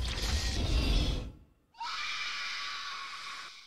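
A creature in the 2024 film Alien: Romulus lets out a loud, harsh, shrieking scream in two bursts split by a brief silence, the second burst thinner and steadier.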